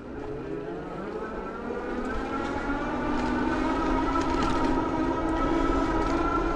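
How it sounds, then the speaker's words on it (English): A Blix Aveny Skyline electric commuter bike with a 500 watt rear hub motor climbs a hill on throttle only, giving a rising motor whine over road and wind rumble that builds steadily and holds, with no talking. "this is our throttle only hill test on the Blix Aveny Skyline. It's a 500 watt rear hub motor"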